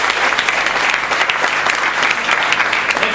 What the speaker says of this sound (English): I request all of you to please carry out a very loud applause